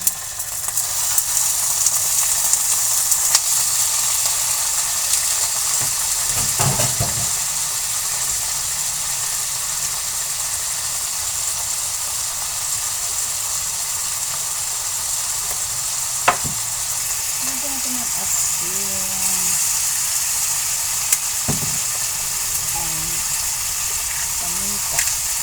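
Chicken fries in a pan for a homemade zucchini pie, a steady, loud, close sizzle running throughout with occasional small knocks and stirring sounds.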